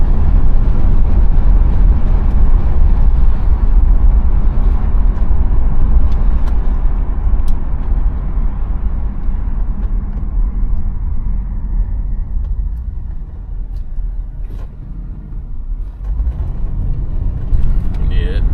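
A 1990 Cadillac Brougham on 20-inch wheels drives along with a steady low engine and exhaust rumble that eases slightly in the middle, then swells again.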